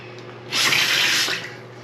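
Water rushes from a faucet under repair, a steady hiss that starts abruptly, holds for under a second, then tapers off, close and fairly loud over a low background hum.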